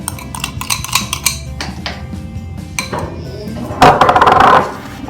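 Potato salad with onion being mixed in a bowl, clinking utensil strikes and scraping against the dish in an irregular rhythm, with a louder burst of clattering near the end.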